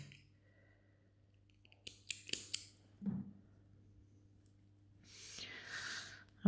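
Dull scissors snip a piece of thread during tatting work: a few quick, crisp clicks close by in a quiet room, followed later by soft rustling handling noise.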